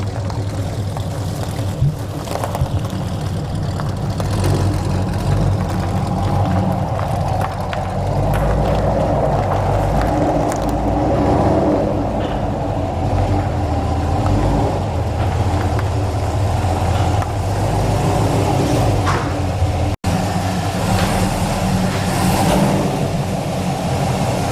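Chevrolet SS Camaro fitted with a cold air intake and headers running hard on a dyno, a loud sustained engine roar that holds steady for a long stretch.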